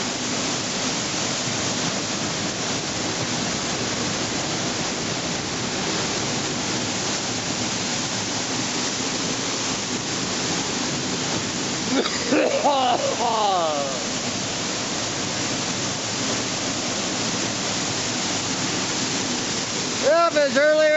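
A waterfall pours in a steady, loud roar of broadband rushing water across the whole stretch, with a person speaking briefly partway through and again near the end.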